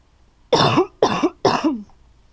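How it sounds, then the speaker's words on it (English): Three sharp coughs in quick succession, close and fairly loud, in a quiet room while someone tries out paints; no other sound around them. "sorry, not trying to cough on stuff"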